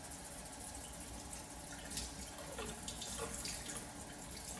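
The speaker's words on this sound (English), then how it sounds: "You want to rinse off your knife." A kitchen tap runs as a knife is rinsed beneath it, the stream hissing softly and steadily with small splashy shifts as the blade moves through the water.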